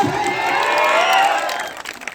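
An audience at a Gujarati engagement celebration claps loudly and steadily, a dense wash of applause with some crowd noise that holds for about two seconds and then begins to thin out.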